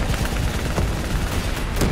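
Heavy, sustained automatic fire from Call of Duty: Black Ops III fills the short stretch, loud and unbroken like a barrage, with no voices.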